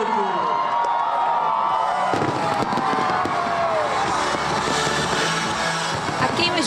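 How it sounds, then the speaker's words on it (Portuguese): A New Year's Eve fireworks display welcoming 2020, using about ten tonnes of fireworks, fills the air with dense crackling and booming bursts while a large crowd cheers and shouts nearby. "A queima de fogos foi realizada com cerca de 10 toneladas de fogos de artifício"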